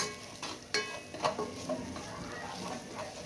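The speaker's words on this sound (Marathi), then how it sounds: "मसाले व्यवस्थित परतून घ्यायचे" Pav bhaji spices of red chilli powder, pav bhaji masala and salt sautéing in a pan, a soft sizzle broken by several sharp spoon scrapes and taps against the metal.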